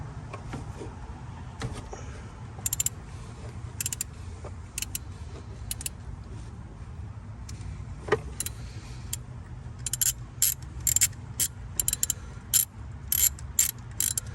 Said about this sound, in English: I'm going to be taking the socket here and taking it out.